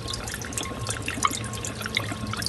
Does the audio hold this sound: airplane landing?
no